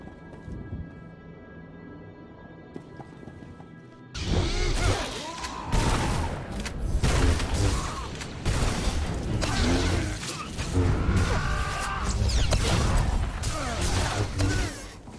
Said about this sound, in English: And now we must head to a safe location and detonate the explosives